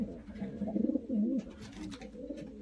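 Racing pigeons coo in a loft, several soft, throaty rolling calls close by, overlapping with faint rustling and shuffling of birds.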